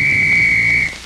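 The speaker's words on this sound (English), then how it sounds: "There's the whistle." Referee's whistle at the kickoff of the 1950 Sugar Bowl football game between Oklahoma and LSU, a single loud, steady blast lasting nearly a second over crowd murmur, then cutting off.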